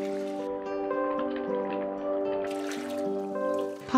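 Cold water trickles into a pot of cooked ring pasta, a quiet pouring and dribbling sound set low under background music.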